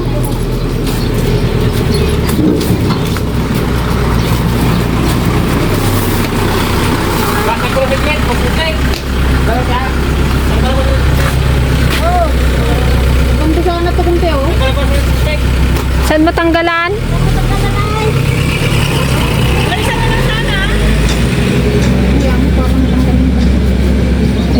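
Two tractors run continuously in a rural Mindoro village, a loud, steady, low engine drone heard up close throughout, with voices talking over the rumble.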